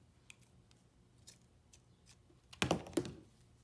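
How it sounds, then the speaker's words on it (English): Scissors snip through spare fabric during a braided headband DIY, giving a few soft clicks, then two louder, close cuts in quick succession with no talking. "don't be scared of just cutting the extra fabric"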